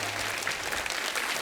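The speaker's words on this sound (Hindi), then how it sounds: "जोरदार तालियां रीना जी के लिए हो जाए" A studio audience claps loudly and steadily for Reena ji in a short, dense burst of applause with a faint voice underneath.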